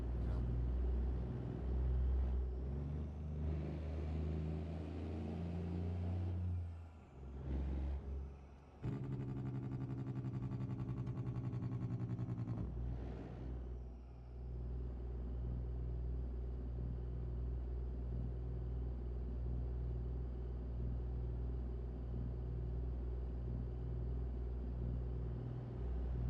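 The engine of a Kenworth KW900 truck in a trucking video game drones with a deep, steady rumble throughout, and its tone shifts briefly in the middle as the truck changes gears or load.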